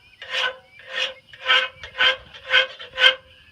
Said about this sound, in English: you can really cut with a file pretty quick